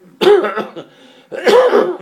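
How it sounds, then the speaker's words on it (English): Two loud, harsh coughs close by, separated by a short pause. "very bad cough."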